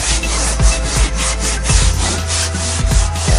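Steady close scrubbing and rubbing of a gray Scotch-Brite pad with glass cleaner over a BMW E90 335 auto leather seat, repeated back-and-forth strokes with soft thumps, loud and without talk.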